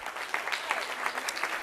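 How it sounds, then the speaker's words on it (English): Audience applause at a women's leadership conference: a short burst of many hands clapping in a dense, even patter, moderately distant and steady throughout without a voice. "Let's give all of them a round of applause."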